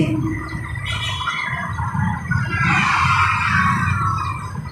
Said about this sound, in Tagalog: Ang dami ring mga ibon dito, mga ibong pipit.